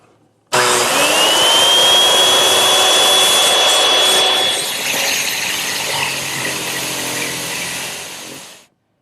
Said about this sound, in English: I'll make the long cut freehand with the circular saw.